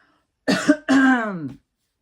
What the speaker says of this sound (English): And then I have to clear my throat every 2 seconds.